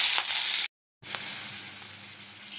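Onion paste frying in oil in a wok with a dried chilli, a close, bright sizzle that cuts out briefly and then returns a little calmer as it is stirred.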